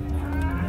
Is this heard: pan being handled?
no